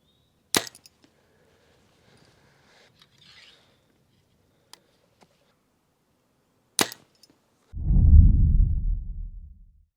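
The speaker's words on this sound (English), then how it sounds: "So I'm gonna shoot one more shot" An arrow from a hunting bow strikes a target on a hillside, two sharp isolated impacts about six seconds apart, followed by a louder low rumbling thud at the end.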